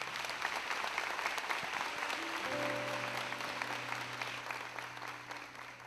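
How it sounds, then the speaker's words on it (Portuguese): A church congregation of the Ministério Deus Forte gives a strong round of applause, continuous dense clapping heard through the whole stretch, with a low musical tone entering partway. "dando uma forte salva de palmas"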